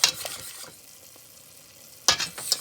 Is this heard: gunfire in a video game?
no